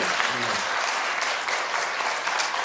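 A church congregation claps loudly and steadily throughout, a dense even wash of applause with no break.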